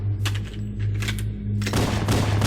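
A weapon in Halo fires a quick series of sharp shots, loud and close, over a steady low hum, building into denser bursts toward the end.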